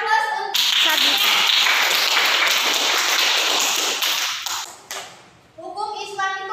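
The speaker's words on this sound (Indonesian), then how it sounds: "Berikan aplaus untuk Sabita" A classroom of children claps for a student in an Islamic law lesson, a loud, dense burst of applause lasting several seconds before it fades, with young voices chiming in at the start and end.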